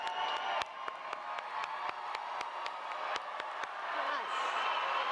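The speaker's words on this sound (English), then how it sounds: "How about one more round of applause?" A crowd at a nursing school hooding and recognition ceremony gives a round of applause for graduates, with scattered sharp claps over a broad crowd wash that swells toward the end.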